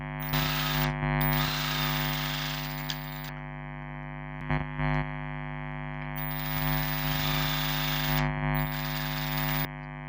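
A sewing machine stitches tucks into a lace blouse, running in two long bursts of steady mechanical whirring with a brief stop and a short burst between them, close up and loud.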